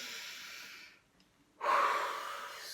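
Slow deep breathing during a relaxation exercise: a long exhale fades to a brief silence, then a strong, close inhale swells and holds, no words spoken.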